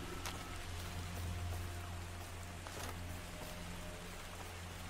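Rain falling in the Far Cry 2 video game, a steady soft wash of rainfall with faint droplet patter and a low ambient hum, continuous and even.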